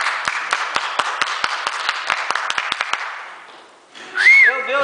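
A sparse handful of hands clap at a church service, a thin, uneven patter of individual claps fading out after a few seconds, followed by a voice.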